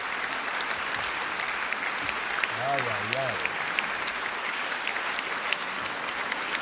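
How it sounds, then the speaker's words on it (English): Sustained applause from an audience after a playoff debate speech, a dense, even clatter of many hands that holds for the whole stretch while a voice briefly speaks over it. "A round of applause."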